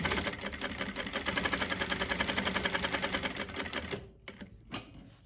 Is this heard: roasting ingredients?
no